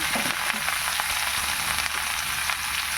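Kalabasa squash sizzling in a hot pan for Filipino ginisang kalabasa, a dense continuous hiss and crackle that stays loud and steady from start to finish.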